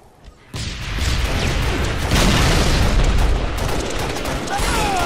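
Grenade explosions in the Halo Reach video game: a loud, booming blast that rolls into several seconds of sustained roaring, crackling debris, heard close with no talking.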